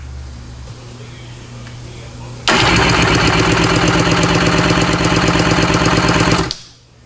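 A Watermotive PJS VHP7000 jet ski engine roars at open throttle, bursting in after a quiet start, holding a loud, rapid, rattling drone for about four seconds, then cutting off abruptly.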